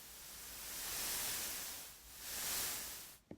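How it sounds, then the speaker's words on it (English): White noise effect from a DJ controller's FX section, a broad hissing wash that swells twice in slow sweeps, then cuts off with a brief click at the end. "that's technically the white noise, the noise"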